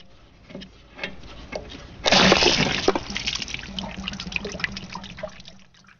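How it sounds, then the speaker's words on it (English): Water bursts from a loosened drain valve on a 2004 Nash travel trailer. A sudden loud hissing spray starts partway through after some small knocks, then keeps gushing and splattering close up. "Surprise, nothing like getting sprayed with water."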